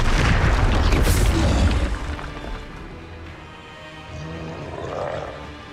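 An Incendio fire spell from the Hogwarts Legacy video game erupts in a loud roaring burst that rumbles and fades over several seconds, followed by faint creature growls and game noise.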